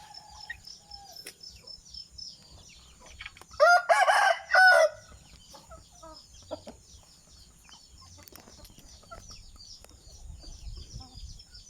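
A Burmese fighting rooster crows once in a loud, broken burst of a few pulses, with a few softer clucks and faint background noises before and after.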